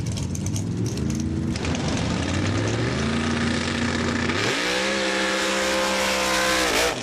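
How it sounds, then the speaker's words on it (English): A modified kart roars through a mud race run and pulls a wheel stand, its engine loud and close as it revs up, climbs steadily in pitch, then surges higher with a continuous hard-driven drone and no talk. "Awesome wheel stand right there by Randy"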